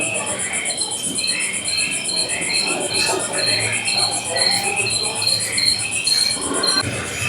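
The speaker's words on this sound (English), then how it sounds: "Can you guys just hear like the frogs and the crickets and everything?" A dense night chorus of crickets and frogs trills steadily, with frog calls and faint chirps mixed in, constant and fairly near, outdoors at Universal's Mardi Gras tribute store.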